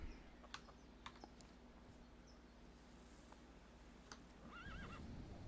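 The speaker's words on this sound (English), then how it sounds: "And the horse sounds off." A horse neighs on the Inferno map of a video game, a faint wavering whinny near the end, with scattered keyboard clicks and a low steady hum throughout, no voices.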